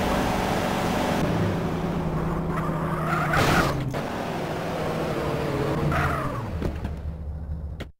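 A car engine in Grand Theft Auto rumbles steadily throughout, with tire squeal and skidding, racing-style revving, and a few sharp transients before it cuts off.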